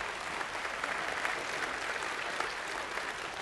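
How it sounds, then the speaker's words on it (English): Audience at a chamber of commerce luncheon clapping together, a steady, fairly faint roar of many hands applauding from across the room without letup. "Give yourselves a big round of applause."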